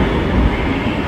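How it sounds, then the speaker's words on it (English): A train rolls past at a station, a dense, steady low rumble and rattle filling the short moment, close and loud, with no voices. "Is that not your train?"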